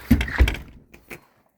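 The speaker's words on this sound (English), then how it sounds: "Shut the door." A door swung shut indoors in a cool morning workshop, a couple of close heavy thumps followed by a lighter rattle, then quiet.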